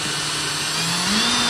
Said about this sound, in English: I'm just going to start by drilling some rivets up the top here